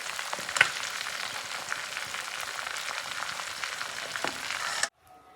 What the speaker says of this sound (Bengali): আমি হাতায় করে এভাবে তেল দিয়ে নিয়ে অনেকটা সময় লাগিয়ে ভেজে নিয়েছি।